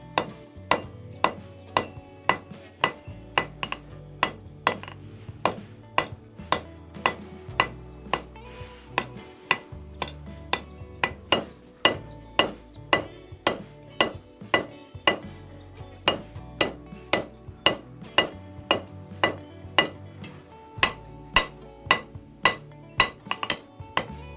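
Metal being hammered thin on an anvil, a long series of sharp ringing strikes in a steady, slightly uneven rhythm, close and clear with no talking.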